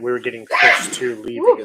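A sharp, noisy sneeze bursts out between stretches of conversation, with people talking just before and after it.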